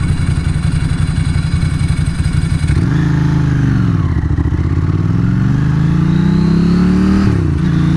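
A Ducati 900SS motorcycle with a modified clutch idles with a lumpy, clattering exhaust note, then revs up and down in several swelling blips, loud and close with no voices.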